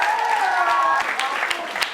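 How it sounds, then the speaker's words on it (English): A youth leadership conference audience applauds as the PNDA president Mateo is introduced, a brief wash of steady clapping with a voice audible over it. "Let's give him a round of applause."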